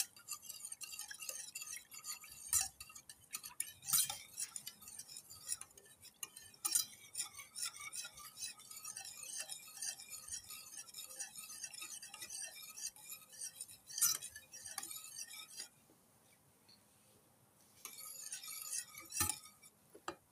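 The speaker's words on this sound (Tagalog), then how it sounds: "haluin hanggang sa mag-combine ang mga ingredients natin" Cake ingredients are mixed in a bowl with a utensil, giving soft, rhythmic clinks and scrapes against the bowl, quiet and steady with a brief pause near the end.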